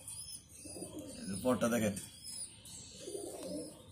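A female pigeon, a cross with a golden chuha breed, gives a soft low cooing close by, heard under someone talking.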